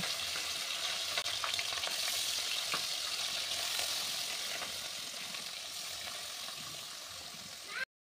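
Salt-and-turmeric-rubbed fish frying in hot oil in a wok, a dense, steady sizzle that stays loud and close for the whole stretch, easing slightly toward the end.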